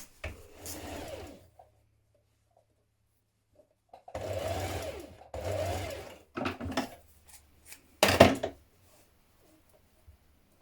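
A sewing machine stitches a dart on a tiered dress in short separate runs, each a few seconds of close motor whir broken by silences, ending in a brief louder burst.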